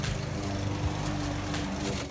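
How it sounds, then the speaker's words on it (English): A lawnmower chops up cannabis plants packed in a small wooden box, a loud, continuous engine roar with churning, thrashing noise that stays close and steady throughout. "Those are weed plants in a little wooden box that I am chopping up with a lawnmower."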